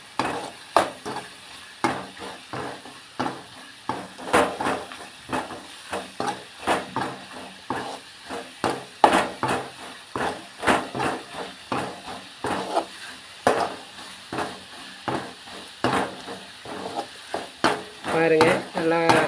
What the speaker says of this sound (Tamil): நல்லா போட்டதுக்கப்புறம் மறுபடியும் நல்லா வதக்கிக்குங்க